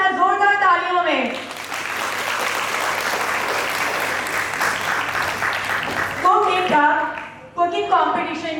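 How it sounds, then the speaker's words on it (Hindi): Loud audience applause at a baking taste challenge cooking competition, a dense sustained burst of clapping for several seconds, with someone talking before and after it. "और इसी तरह जोरदार तालियों में"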